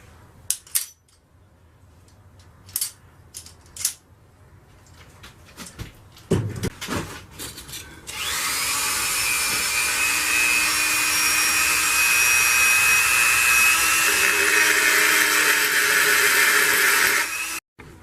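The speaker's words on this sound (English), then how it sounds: "using the die grinder to die grind this pattern" A die grinder works a welded metal pattern on a bone blade. After several short clanks and knocks, it starts and runs as a loud, steady high-pitched whine for about ten seconds, then cuts off.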